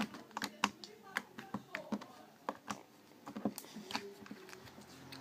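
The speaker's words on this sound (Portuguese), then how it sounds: "Mas ela tá muito boa, olha o clique." Homemade slime being squeezed and pressed by hand gives a quick series of sharp, close clicks and pops in an irregular rhythm.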